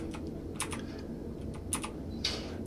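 Quick, light clicks of keys on a computer keyboard come in short bursts with brief pauses, close and fairly quiet over a steady low hum, with no one talking.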